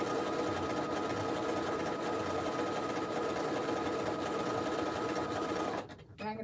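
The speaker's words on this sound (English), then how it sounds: "And I don't know if I'm paying attention how straight I'm sewing." A sewing machine runs steadily and loudly at close range, stitching continuously for about six seconds before stopping abruptly near the end.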